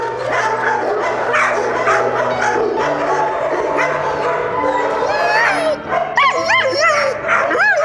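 Several rescued dogs at an animal shelter in Ukraine bark, yip and whimper at close range, overlapping continuously with high, wavering whines rising toward the end.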